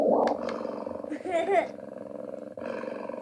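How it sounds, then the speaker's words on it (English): A purring cat sound from a white noise sound machine with night light, a low rumbling purr with a roar-like swell midway, heard under talking voices throughout. "That's a purring cat."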